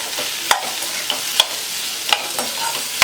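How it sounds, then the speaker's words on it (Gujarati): Tindora and potato curry with spices sizzles in a kadhai, a close, steady hiss broken by a few sharp clicks and scrapes of a spoon stirring against the metal. "અહીંયા આપણે બધા જ મસાલાને આપણે 1 મિનિટ સુધી સાંતળવા દઈશું"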